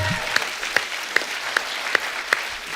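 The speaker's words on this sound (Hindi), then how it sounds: "इनके लिए जोरदार तालियां।" Studio audience applause on a comedy talk show, a continuous crowd clapping bed with a few sharp, evenly spaced louder claps standing out about every 0.4 seconds.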